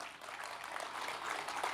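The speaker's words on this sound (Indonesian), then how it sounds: "Tepuk tangan untuk beliau" Audience applause at a groundbreaking ceremony for rice field rehabilitation in Aceh, a faint, distant and steady patter of many hands clapping throughout.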